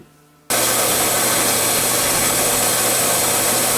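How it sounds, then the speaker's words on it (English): A belt sander starts abruptly and grinds down a bronze thrust washer for a 1980 Can Am MX-6 125, giving a loud, constant abrasive roar with a steady motor drone and no pauses. "we're going to get started here working this down a little bit on the belt sander"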